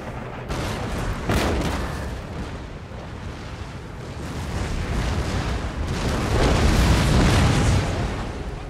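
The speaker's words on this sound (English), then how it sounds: "And everyone, just open fire." A massed musket volley in an Empire Total War battle, with crackling rolling fire and dull booms that build into a dense, sustained roar, loud and continuous.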